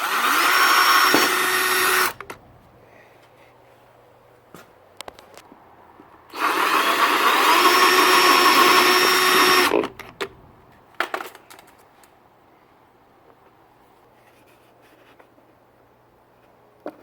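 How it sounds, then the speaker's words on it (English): A power drill bores a hole in aftermarket plastic on a 2014 KTM 250 XC two-stroke dirt bike, with two sustained whirring bursts separated by quiet handling clicks and taps. "just drill a hole right there where that cutout is"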